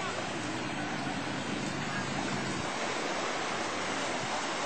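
Continuous broadband rushing of water as the 2004 tsunami surges in at Krabi, Thailand, like surf washing and breaking close by, steady and loud with no voices.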